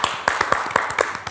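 A few people clap on a Tamil television talk show, giving sparse, uneven hand claps of about a dozen sharp strikes at close range with no talking.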